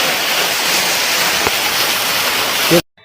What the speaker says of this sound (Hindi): लोग झरना स्टार्ट करवा दिए हैं।